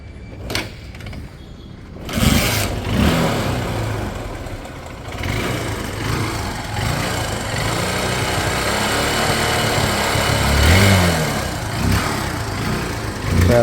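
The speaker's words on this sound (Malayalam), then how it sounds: "പിന്നെ ഉള്ളത് നമുക്കൊന്ന് സ്റ്റാർട്ടാക്കി ഞാൻ കാണിച്ചു തരാം കേട്ടോ. കിക്കറടിക്കണം." A 2013 Honda Unicorn motorcycle whose electric start no longer works is kick-started with the choke on, then its engine runs steadily, loud and close, with a few revs rising partway through.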